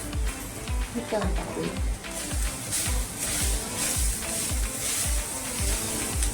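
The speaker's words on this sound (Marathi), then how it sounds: "आपलं फोडणीचं सामान सगळं भाजून झालं छानपैकी हिंग टाकू थोडासा" Spices sizzling in hot oil while being tempered for a gawar (cluster bean) sabzi, with a steady frying hiss and regular rhythmic stirring knocks, heard close up.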